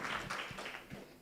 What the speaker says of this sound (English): A round of applause for Dennis.